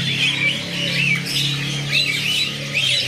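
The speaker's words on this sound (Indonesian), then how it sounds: "Di sini ada burung Sri Gunting Kerantil atau Sri Gantil ya." A caged drongo at a bird seller's kiosk gives sharp, squawking whistled calls, repeated every second or so and fairly close, over a faint background of other birds' calls.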